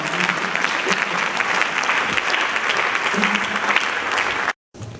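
An audience at a language conference applauds, a full, even crackle of many hands clapping that carries on for about four and a half seconds before cutting off abruptly, with a few voices faintly audible beneath.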